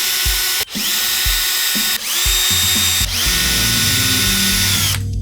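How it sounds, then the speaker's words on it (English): A power drill whirs in repeated bursts while backing out screws from a guitar pickguard, several short high-pitched runs with brief pauses and ratcheting stops between them, close and loud. "take out all the screws around the pickguard so that we can lift out the pickguard"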